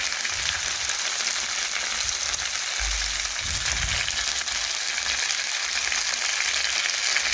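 Turmeric and red chili powder stirred through hot oil in a frying pan for a Bengali fish head dish, giving a steady close sizzle with a few low scraping stirs partway through.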